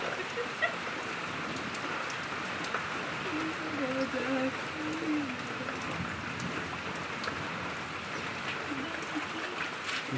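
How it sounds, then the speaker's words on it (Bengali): Heavy rain from a Kalbaishakhi storm pours down steadily, a dense even hiss of drops on surfaces throughout, with faint voices murmuring underneath. "কাল বৈশাখী নাকি বৃষ্টি হচ্ছে।"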